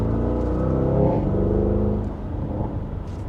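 A 2025 Porsche Cayenne S with a V8 in Sport Plus mode revs its exhaust, a deep throaty rumble that swells then eases over a few seconds, close and loud with no talking.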